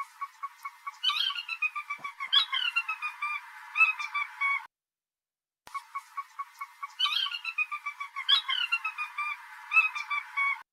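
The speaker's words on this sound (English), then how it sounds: "That's the sound of a sora." A sora rail at Sweetwater wetland gives repeated descending whinnying calls, a rapid series of high, clear squeals in two bursts separated by a short silence, fairly close and alone.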